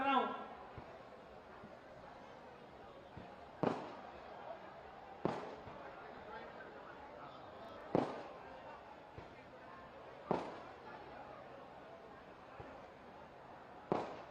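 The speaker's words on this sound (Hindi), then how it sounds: "पटाखे बंद कर दें, जब तक भाषण चले तब तक पटाखे बंद कर दें।" Firecrackers burst at an outdoor election rally in Tijara, Alwar, Rajasthan: about five sharp, loud cracks spaced a few seconds apart, cutting through a steady crowd murmur and amplified talk.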